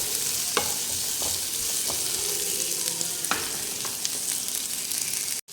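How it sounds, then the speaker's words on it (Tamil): Onions fry in hot oil with a steady close sizzle, and a spatula scrapes and stirs them now and then until they turn golden. "சேர்த்துட்டு பார்த்திங்கன்னா பொன்னிறமாக ஆகிற அளவுக்கு நீங்கள் கொஞ்சம் நல்லா வதக்கிக்குங்க."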